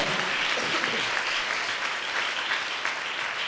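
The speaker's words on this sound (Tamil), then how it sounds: "நல்ல கைத்தட்டு கொடுக்கலாமே." Dense, steady applause from a church congregation during a Tamil sermon fills the whole stretch at an even, sustained level.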